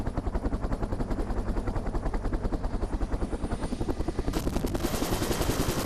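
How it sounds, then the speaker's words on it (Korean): A military helicopter carrying marine special forces troops thuds with fast, rapid rotor beats, loud and close, with a rising turbine whine near the end. "강화를 위해 헬기에 탑승하는 대원들"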